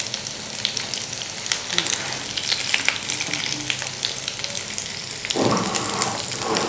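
Aloo ke kabab, crispy potato kebabs, fry in a pan over a medium flame, giving a steady close sizzle with scattered oil crackles and a brief louder burst of spitting near the end.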